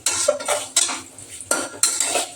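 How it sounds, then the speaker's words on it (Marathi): A metal spoon scrapes and clinks in a pan while masala rice spices are stirred and roasted, with four or five distinct, rhythmic scraping strokes, close and clear, with no voices. "त्याला छान हलवून घेऊया, म्हणजे मसाले पण छान रोस्ट होऊन जातील"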